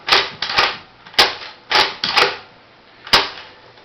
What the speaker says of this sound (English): you could do it manually with this, cock forward and back and then shoot